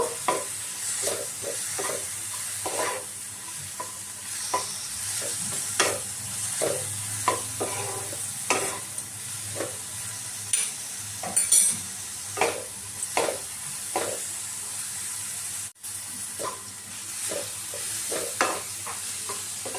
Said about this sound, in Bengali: পেঁয়াজটাকে একটুক্ষণ ভেজে নেব।